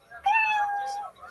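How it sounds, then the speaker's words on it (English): A single cat meow used as a timer cue on a talk stream, a clear drawn-out mew of about a second standing alone with no talking. "You know 60 seconds is up when you hear the sound of a kitty."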